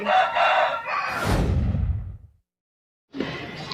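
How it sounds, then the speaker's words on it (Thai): A rooster crows loudly and close, a long drawn-out call that fades, followed by a brief silence and then more noise. "เสียงไก่ร้องเสียงดังมาก"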